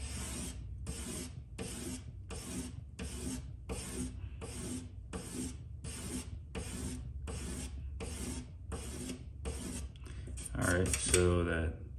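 A Mazda RX8 rotary engine side seal is cut by hand with a file-like rasp, giving a dozen regular, evenly spaced scraping strokes up close, followed by a short burst of quicker rubbing.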